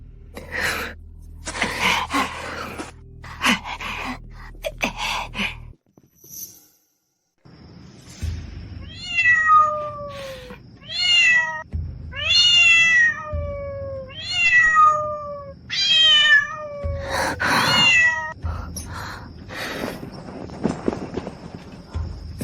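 A stray cat meows repeatedly in a series of clear, drawn-out rising and falling cries, close and loud, with some scuffling footsteps and clatter around them.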